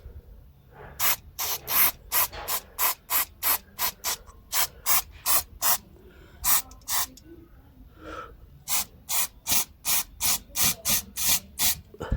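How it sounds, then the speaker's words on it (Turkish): Rapid rhythmic bursts of harsh hissing friction as sandpaper is worked around a rusty rear brake part of a TVS Jupiter scooter, strokes repeated in quick regular sequence with brief pauses, close and fairly loud. "Şimdi şunun etrafını da bir zımpara çekek de"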